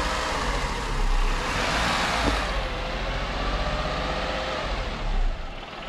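A car engine idles steadily during a jumpstart, the good car's motor running first to charge the weak battery; a continuous mid-level rumble holds throughout, fairly loud and close, with no talking.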